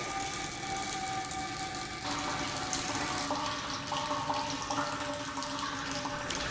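Water streams steadily from the outlet of a constant head permeameter into a catcher during a soil permeability lab test, a continuous close hiss and trickle with no talking.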